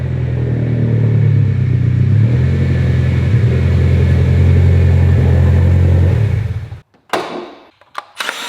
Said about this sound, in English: Bob, go ahead and crank it